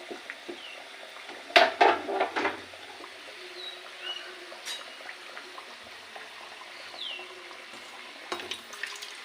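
Samosas frying in hot oil, a steady soft sizzle running throughout, with a few louder crackling bursts early on and near the end.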